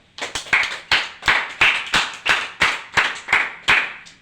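An audience claps in unison at a youth congress commemoration, about a dozen loud, evenly spaced group claps in a slow steady rhythm, close and clear with no talk.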